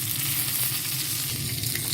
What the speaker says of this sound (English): It's the chicken frying.